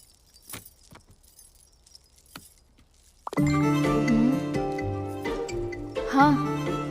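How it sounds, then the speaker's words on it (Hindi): Car keys jingle in a few brief metallic bursts against near silence, then a loud car engine starts and runs with a steady hum while music-like tones rise over it. "ए, गाड़ी की चाबी लेकर आओ।"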